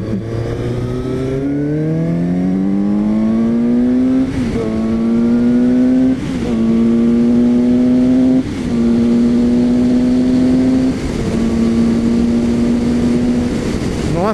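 A Suzuki GSX-S750A motorcycle engine climbs through the revs while accelerating, loud and close, its rising pitch broken by several sharp gear changes before settling into a steady high drone.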